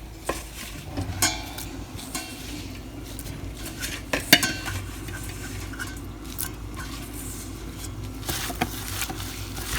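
A thick, spicy shrimp marinade is stirred in a bowl, with soft, close scraping and wet mixing sounds and occasional light clinks of a utensil against the dish.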